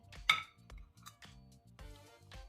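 Several light clinks of plates and dishes being set down close by, with short pauses between the knocks, no talking.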